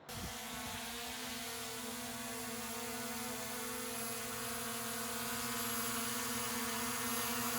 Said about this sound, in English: It sure felt good to have the drone up in the air again.